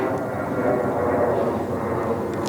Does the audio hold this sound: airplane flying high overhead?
yes